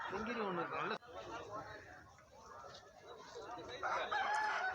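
A rooster lets out a crow near the start, followed by softer fowl sounds, with someone talking over much of it.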